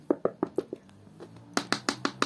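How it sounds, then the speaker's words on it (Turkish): Knuckles knocking on a classroom door: a run of five sharp raps, a short pause, then another quicker run of about six louder knocks, close and crisp, with no talking. "Kapı çaldı gidin bakayım."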